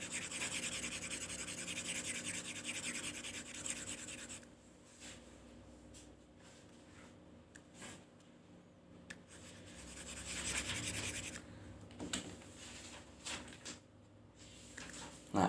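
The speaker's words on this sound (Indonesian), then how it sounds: "Contoh misalkan ini saya hapus dulu." Writing on a classroom board is rubbed out, giving soft, quiet scrubbing and scratching strokes in irregular bursts that fade and return over a low room hum.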